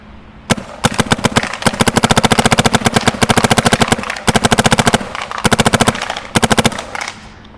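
Two paintball markers, an Empire Axe 2.0 and a Mini GS, fire in rapid bursts side by side, loud and close, with sharp pops in fast strings separated by brief pauses.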